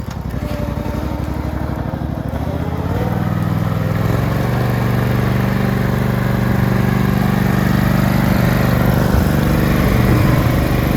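A lawn mower engine runs steadily and close by, a constant droning hum that grows a little louder and fuller after the first few seconds, with no talking over it.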